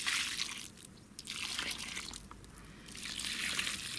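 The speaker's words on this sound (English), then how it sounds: "I'll just throw the water out the bucket on both of these actually." A bucket of water is tossed out onto newly planted fennel and other plants on an allotment, giving short splashing pours and trickles between quieter moments.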